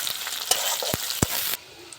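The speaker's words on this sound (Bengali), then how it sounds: "পেঁয়াজটা ভাজা ভাজা হয়ে গেছে" Onions fry in hot oil with cumin, dry chilli and bay leaf in a pan for aloo dum, a loud continuous sizzle broken by a few sharp stirring knocks, then dropping to a quieter hiss.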